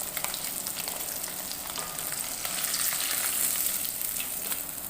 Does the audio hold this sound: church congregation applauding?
no